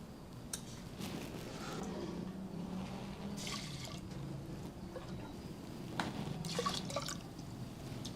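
Water drips and splashes as a container overflows, with soft trickling and intermittent clinks of dishes or utensils close by, fairly quiet throughout.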